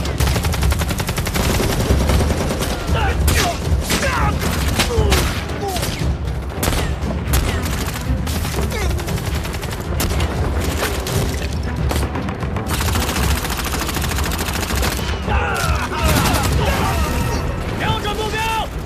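Dense battle-scene gunfire and shelling in a period Chinese drama, with rapid machine-gun bursts, overlapping rifle shots and heavy booms rolling continuously at close range, loud throughout, while voices shout beneath the barrage.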